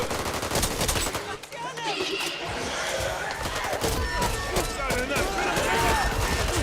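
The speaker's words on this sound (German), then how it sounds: "Wer schießt mich an? Ja, wo schießen die hin?" Rapid gunfire in the zombie shooter Back 4 Blood: dense bursts of automatic and single shots crackle almost nonstop at close range, mixed with game effects and voices talking over the fight.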